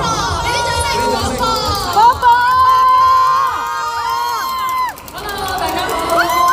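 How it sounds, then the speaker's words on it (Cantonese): A crowd at a shopping-mall promotional stage event for national games athletes cheers and claps loudly, with shouts and chatter, over bright music with singing. "俾啲掌聲鼓勵。"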